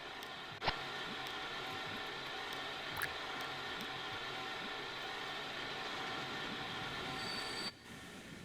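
Steady rumble of a train running in the Transport Fever 2 rail simulation game, with continuous wheel-on-rail noise, faint squeals and a couple of short sharp clicks, fairly quiet and unbroken by talk.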